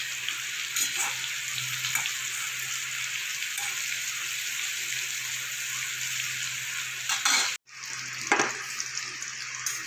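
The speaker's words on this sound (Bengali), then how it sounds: "আলুগুলো আমার লাল করে ভাজা হয়ে গেছে" Potatoes frying in mustard oil in a kadai, a loud continuous sizzle with periodic stirring scrapes and a brief pause near the end.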